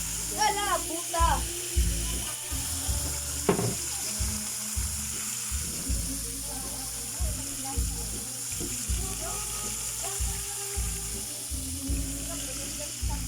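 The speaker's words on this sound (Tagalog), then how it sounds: "Magprito tayong isda mga paps." Fish sizzles and crackles as it fries in a pan, a steady close hiss with scattered pops, and people talk at times over the cooking sound.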